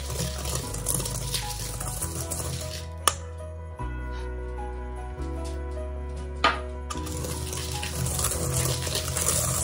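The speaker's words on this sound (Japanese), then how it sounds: "で、ここにさらにお湯を入れます。" Hot water is poured into a bowl of matcha powder and granulated sugar, a soft continuous trickle close by with a couple of sharp clinks against the bowl.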